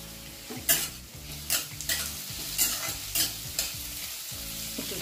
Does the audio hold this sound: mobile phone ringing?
no